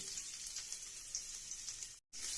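Onions and garlic sizzle in hot oil for masoor dal, a steady close hiss that drops out for a moment near the end and then resumes.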